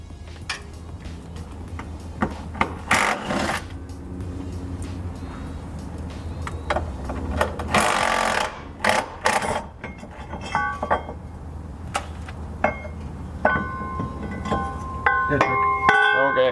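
A ratchet with a 13mm socket works on the driveshaft bolts of a BMW E46, giving repeated close clicking bursts and metallic clinks with short pauses between them.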